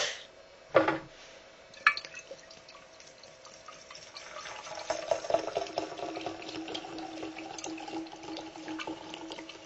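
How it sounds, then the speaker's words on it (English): Vodka is poured over rosemary in a jar to make a herbal tincture, a faint trickling and splashing that builds into a steady pour after a couple of sharp knocks, quiet and close with no talk. "cover the herb, in this case our rosemary, with the vodka"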